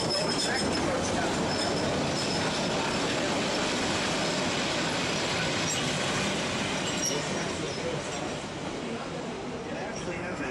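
A train on the Georgetown Loop Railroad rolls along the rails with a continuous rumbling roar and faint wheel clatter, while a person talks over the noise.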